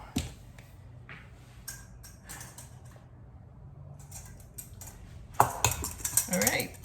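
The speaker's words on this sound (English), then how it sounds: "And then I mash it up with the fork" A fork mashes avocado for homemade guacamole in a bowl, giving close, uneven scraping and clinking of metal on the dish that grows busier and louder toward the end, with light kitchen background.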